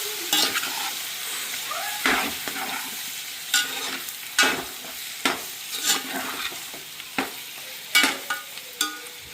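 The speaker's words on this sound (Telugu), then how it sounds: "మొత్తం ఒకసారి మొత్తం తిప్పుకుందాం, మొత్తం పూర్తిగా ఒకసారి మొత్తం కలుపుకుందాం" Country chicken pieces coated in masala are stirred in a pan for a village-style naatukodi curry, with repeated loud scrapes and clatters of a spoon over a low sizzle, close up and without talk.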